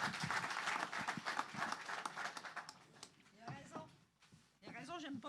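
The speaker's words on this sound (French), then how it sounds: "Edith, on applaudit Edith Cyr, directrice générale de Bâtir son" Audience applause at a launch event for the SHCN, loud dense clapping that fades after a few seconds, followed by a voice speaking.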